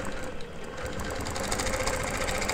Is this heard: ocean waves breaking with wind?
no